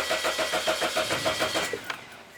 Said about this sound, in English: Let me crank it.